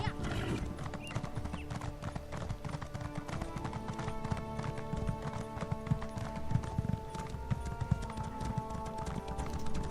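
Steady clip-clop of a galloping warhorse's hooves in The Elder Scrolls Online, Murkmire prologue, running continuously under game music while a voice talks intermittently.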